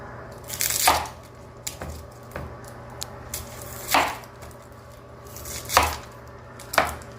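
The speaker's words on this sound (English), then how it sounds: "we're gonna just cut up some vegetables to see what's up with it, right?" A razor-sharp 1095 high-carbon steel knife chops through vegetables on a cutting board, giving several crisp, separate thunks spaced irregularly a second or so apart, close and fairly loud against a quiet room with no talking.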